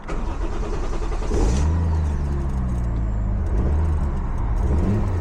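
A JP Chaser car with a newly installed EMU engine management and wasted-spark ignition cranks and fires up, then settles into a loud, close, steady idle with a deep low rumble.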